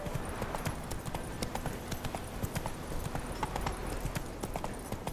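Horse hooves galloping in The Witcher 3: Wild Hunt, a steady rhythmic clip-clop of hoofbeats at an even pace, moderately loud and continuous, with no talk.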